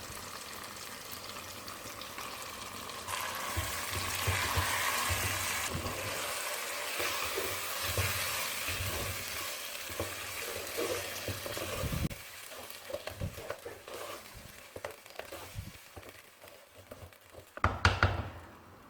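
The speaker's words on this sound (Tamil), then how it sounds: "அலசி வச்சுக்க குடல் சேர்த்து வதக்கிக்கலாம்." Washed mutton intestines sautéing with softened tomatoes in a pan for a Karaikkudi-style gravy, a low frying hiss with scattered thuds and stirring knocks, quieter toward the end before a final clatter.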